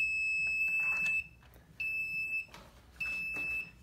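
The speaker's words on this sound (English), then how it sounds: "I can also force the alarm to go by holding this button down." A piezo buzzer on an Arduino-built Nerf target alarm clock shrills in three loud, steady high-pitched blasts, each about a second long and separated by short gaps.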